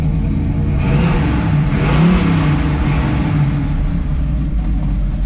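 A 1969 Chevrolet Camaro SS 396 V8 engine idles steadily at about 1500 RPM while warming up, with a deep, rumbling tone and slight rises in revs, loud and close, with no voices.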